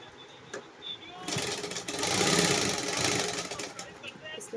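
A sewing machine runs in bursts as sleeve fabric is stitched on a suit, with a fast, whirring rattle that builds and holds for a few seconds, close by, after a quieter stretch of small handling noises.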